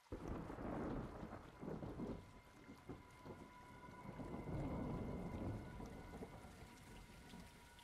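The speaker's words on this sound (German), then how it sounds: "Es regnet sehr stark." Heavy rain and rolling thunder in the video game Call of Duty Modern Warfare II: a dense, steady downpour hiss with low rumbling peaks throughout, fairly quiet overall, no talk.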